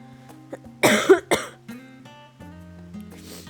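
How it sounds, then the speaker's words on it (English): A person who feels sick with a sore throat and runny nose coughs in a short, loud cluster of harsh bursts close to the microphone, followed by quieter throat sounds. "I'm coughing"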